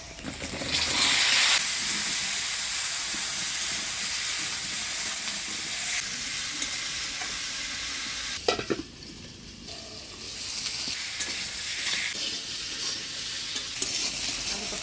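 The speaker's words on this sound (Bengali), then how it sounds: "এবার এর সাথেই পটলগুলা ভেজে নিব" Pointed gourd (potol) and potatoes seasoned with turmeric and salt fry in a pan, giving a continuous close sizzle overlaid with stirring and scraping and a brief clatter partway through.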